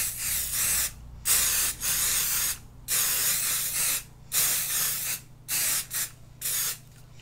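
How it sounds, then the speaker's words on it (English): Spray paint aerosol can sprayed through a Mylar stencil from about 15 cm away: a series of close, loud hissing bursts of varying length separated by short pauses, with no talk. "you're going to come in about 15 centimeters away"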